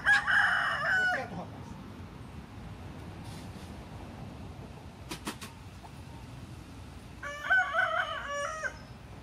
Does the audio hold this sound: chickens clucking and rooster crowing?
yes